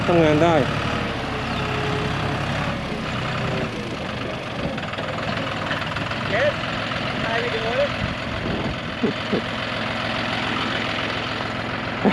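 A John Deere 5040D tractor engine runs close by at a steady, rumbling idle with slight throttle rises, while someone talks over it throughout.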